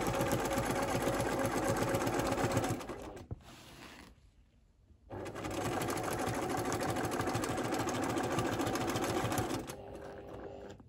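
A sewing machine runs in long, fast, steady bursts while free-motion quilting a grid of stitching, stopping for about a second midway and then resuming, close and moderately loud.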